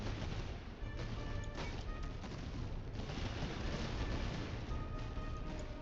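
Dense, continuous musket gunfire and battle noise from the Prussian army game Master of Command, a steady wash of distant volleys with faint cracks poking through, no voices.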